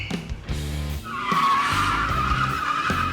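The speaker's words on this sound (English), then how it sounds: "I kicked the tires, I did some burnouts, a couple donuts" Custom Packard car doing burnouts in a parking lot: engine revs rise, then tires squeal loudly and continuously over the roaring motor.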